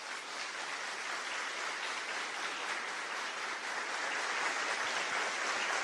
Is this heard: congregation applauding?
yes